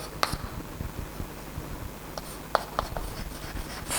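Pen or chalk writing out an integration exercise in a maths class, faint scratchy strokes with a few sharper taps over a quiet room hum, no talking.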